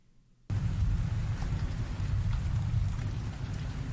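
Steady rain ambience starts abruptly after a brief quiet moment, then holds as a dense, even patter of rainfall on a surface with a low rumbling undertone, played loudly throughout.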